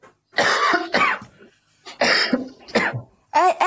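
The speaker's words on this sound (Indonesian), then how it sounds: "Virus. Batuk." Someone coughs close and loud in several harsh bursts, grouped in twos with short silent gaps between them.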